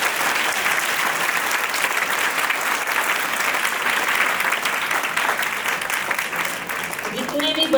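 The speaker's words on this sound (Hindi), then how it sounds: "एक बार आर्य सर के लिए भी तालियाँ।" An audience at a school Vedic speech competition gives sustained, steady applause for nearly eight seconds, the clapping dense and even throughout, with a voice starting to speak at the very end.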